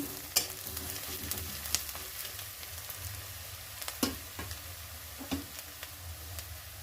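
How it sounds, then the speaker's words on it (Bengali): Two chopped medium onions fry in a pan for a fish curry, giving a soft, continuous sizzle broken by occasional spatula taps and scrapes, with no voices. "মিডিয়াম সাইজে দুটো পেঁয়াজ ভালো করে কুচিয়ে নিয়ে লাল করে আমি ভেজে নেবো"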